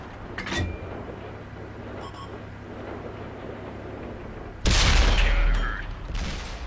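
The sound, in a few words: tank cannon firing HEAT shell in World of Tanks video game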